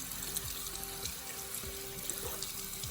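Warm water runs steadily from a tap while hands are rinsed after a salt peeling scrub, a soft continuous wash with faint splashes and no talking.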